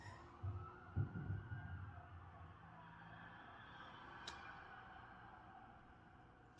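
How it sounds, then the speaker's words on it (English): Emergency vehicle sirens passing outside, a faint wavering wail heard distantly through walls, with low rumbling at the start and a sharp click at the end. "let's have a moment for the sirens"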